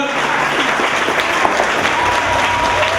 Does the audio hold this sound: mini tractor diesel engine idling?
no